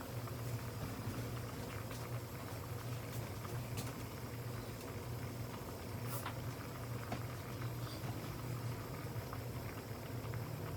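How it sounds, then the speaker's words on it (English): Water comes to a rolling boil on high heat in a pot for jasmine rice, producing a faint, steady bubbling and churning with no voices. "So it's on high heat until it starts to boil."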